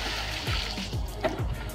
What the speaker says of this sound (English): Now we gotta dump out this water because it's got all the dirt and grins from the wheels.